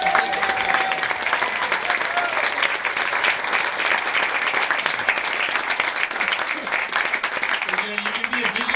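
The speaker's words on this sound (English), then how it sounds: "Come on, guys, give yourselves a big round of applause." A big round of applause from a lecture audience, thick continuous clapping throughout with a few voices and a faint whistle mixed in.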